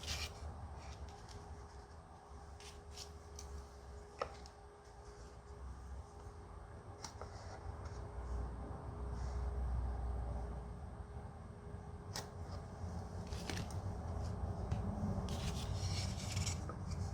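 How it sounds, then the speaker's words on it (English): A marking gauge scribes mortise edge lines into a wooden jewelry box part, giving quiet, close scraping and rubbing strokes with a few small taps and clicks over a low background rumble. "I use the marking gauge to scribe the two lines that define the edge of the mortise"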